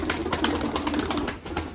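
Pigeons in a coop flutter and shuffle in a dense, continuous rustle of wingbeats and scratching, close and fairly loud.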